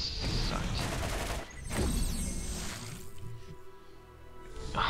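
Bursts of gunfire from weapons in the Borderlands video game, loud rapid shooting that breaks briefly then resumes with impacts and fading echoes, a voice speaking faintly beneath the action.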